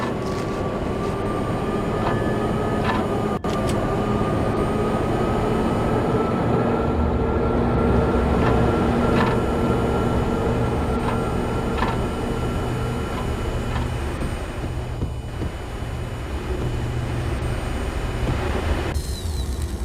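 A steady, droning rumble of a train in the Max Payne video game, with a sustained tonal hum and faint clanks, heard up close and alone for the whole stretch.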